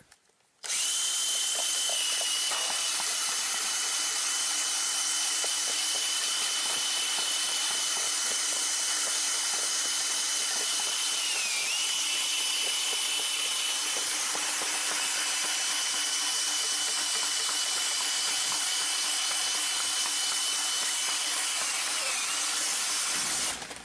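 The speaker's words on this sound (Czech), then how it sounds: "Nyní motor. Tohle urychlí sušení." A small motor hooked to a homemade laundry-drying contraption runs with a steady high whine and buzzing hum, unbroken for over twenty seconds, dipping briefly in pitch midway.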